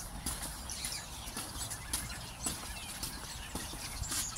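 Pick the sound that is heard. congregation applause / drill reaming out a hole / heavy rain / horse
horse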